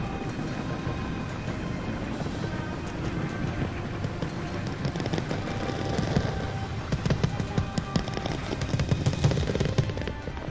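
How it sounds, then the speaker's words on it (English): Fireworks going off in a video game level, scattered pops and bangs building in density toward the end, mid-distance and moderately loud over a steady background. "God, you gotta give those fireworks credit for sounding extremely realistic"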